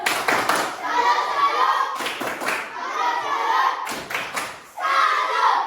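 A classroom of students claps in a rhythmic group cheer for a presenting group, in short bursts separated by brief pauses, with children's voices chanting along between the claps.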